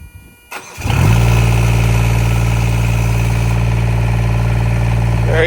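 An auxiliary power unit on a truck cranks and catches, then settles into a loud, steady, even idle with a low droning hum that runs unbroken to the end.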